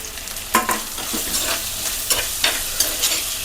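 Tomato and curry leaves fry and sizzle in a pan for a Kerala-style fish curry, with repeated scraping stirs cutting through a steady close sizzle and no talking.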